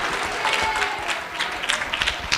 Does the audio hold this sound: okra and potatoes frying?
no